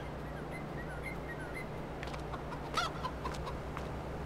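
Chickens clucking in Farming Simulator 22, soft scattered clucks and short calls over a steady farm ambience, fairly faint and without talk.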